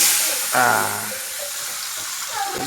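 Onion dropped into a pan of hot oil just used for frying fish brings a sudden surge of loud, close sizzling that settles into a constant watery crackle; no voices.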